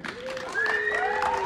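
An outdoor crowd in Brest applauds and cheers to welcome the performers Sticky Snake, a dense wash of clapping rising in loudness, with whistles and voices mixed over it.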